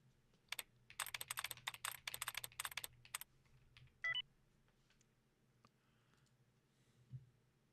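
Computer keyboard typing a quick web search: bursts of rapid key clicks in the first few seconds, then a short electronic beep-like tone and scattered faint clicks in a quiet room.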